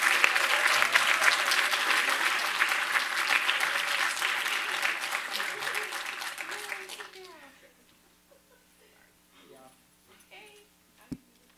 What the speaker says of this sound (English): Can we give a collective round of applause for all our panelists?